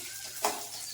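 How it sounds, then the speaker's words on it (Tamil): Toor dal roasting in oil, a soft steady sizzle broken by one brief scrape of stirring, close and faint, with no voices. "பருப்பு வறுத்தாச்சு, கலர் மாறி இருக்குது"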